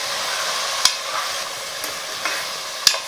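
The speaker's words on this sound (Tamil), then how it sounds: "இந்த எண்ணெயிலே வந்து மட்டன் வந்து ஒரு 2-3 நிமிஷத்துக்கு வந்து நல்லா வதங்கட்டும்." Mutton sautés in oil in a pan, making a continuous close sizzle. Several sharp clacks of a spoon against the pan punctuate the hiss as the meat is stirred.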